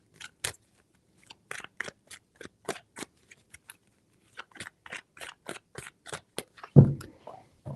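Crisp, rapid riffling of tarot cards comes in quick bursts with short pauses, ending in a louder thump as the deck is squared.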